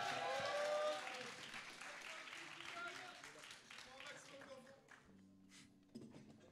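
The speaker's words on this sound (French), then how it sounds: "Un tonnerre d'applaudissements, s'il vous plaît !" Applause from a student event audience, broad clapping that swells loudest in the first second, then tapers steadily with some voices mixed in.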